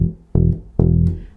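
Bass guitar playing simple root notes, two firmly plucked notes each ringing out and decaying, close and alone with no other instruments.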